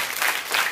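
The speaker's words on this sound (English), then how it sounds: "Everybody clap your hands." An audience clapping hands along to a children's sing-along song, a brief dense burst of applause from a crowd.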